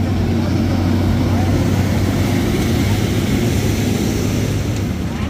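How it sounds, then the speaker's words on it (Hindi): A farm tractor rolling in a crowded Kanwar pilgrimage procession: a loud, continuous low engine drone dominates throughout, close and steady, with crowd voices mixed in beneath it. "देख लो ट्रैक्टर भी आवा डाक कावड़ में, ये वन लाग रही ट्रैक्टर फार्म ट्रैक"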